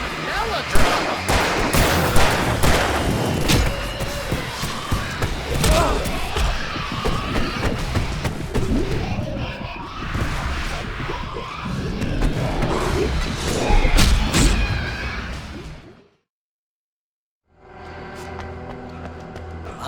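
Dense bursts of fireworks exploding in the video game Alan Wake Remastered, rapid crackling booms and bangs with crowd-like noise and voices, running loud for about sixteen seconds before a short silence and a quieter tonal tail.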